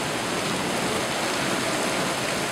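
Heavy rain pours down during a severe thunderstorm in Fort Smith in a steady, dense roar of broadband noise that never lets up, close and loud throughout.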